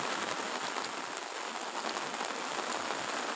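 Steady rain pours in a rural village, water streaming off the roof eaves in a dense, continuous hiss with no breaks, close and even throughout.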